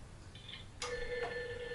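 Toy telephone on a VTech sit-to-stand learning walker gives a brief electronic chirp, then a bright synthesized ring tone starts and holds, close and clean with no talking.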